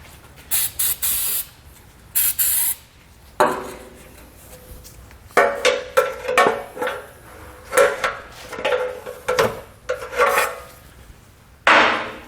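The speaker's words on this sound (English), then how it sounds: "take a pry bar and pry against it until we can slide it off" Rubber exhaust isolator being pried off its hanger with a pry bar beneath a 2020 Buick Encore, giving repeated close scraping, rubbing and squeaking strains in bursts with short pauses between efforts.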